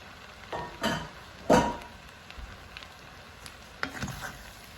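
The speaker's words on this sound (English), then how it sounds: "So now I'm adding our sauteed veggies." Sauteed vegetables tumble into a sizzling lo mein pan and get stirred, giving a few soft scraping strokes and brief bursts of frying hiss, fairly quiet and close, with no talking.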